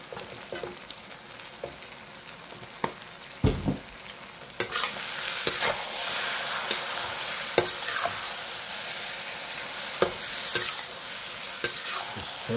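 Chicken pad Thai is stir-fried in a pan, a steady close sizzle that grows louder partway through, with repeated scraping clicks of the utensil tossing the noodles and no voices.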